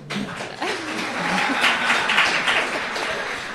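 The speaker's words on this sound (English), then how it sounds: "You get a clap for that." Audience clapping rises and continues steadily at a reading event honouring a writer, moderately loud, with some speech mixed in.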